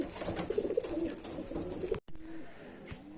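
Soft cooing of giribaz pigeons in low, rolling bursts against a faint hiss, cut by a brief dropout before quieter cooing resumes.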